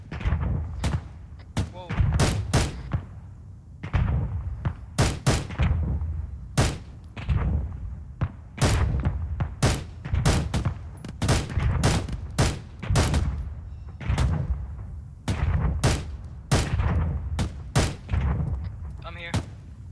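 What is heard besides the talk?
suppressive gunfire in a firefight in Afghanistan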